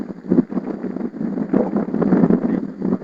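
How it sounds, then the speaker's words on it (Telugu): Strong gusty wind blows outdoors where a fire is being kept alight, buffeting the microphone in uneven surging bursts, loud and close, with no speech. "ఘోరంగా వస్తుంది గాలి అసలు మన కోసమే."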